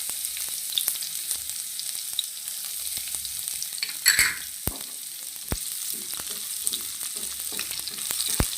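Green chili, ginger and garlic sautéing in hot oil, a continuous close crackling sizzle with occasional utensil knocks and a brief louder stir midway, no speech.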